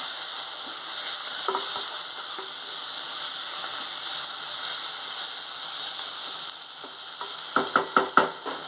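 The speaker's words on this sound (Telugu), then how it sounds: "ఇప్పుడు మొత్తం అంతా కలిసేటట్టు కలుపుకోవాలి" Tomato curry with green chillies sizzling in a pan, a steady hiss through most of the clip, then a quick run of close, sharp spoon scrapes and knocks as it is stirred near the end; no talking.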